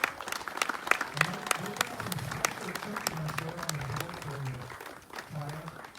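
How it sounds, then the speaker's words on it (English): Scattered outdoor applause and individual claps from a small crowd at a donated car presentation for veterans, with people talking and calling out over the clapping. "Round of applause."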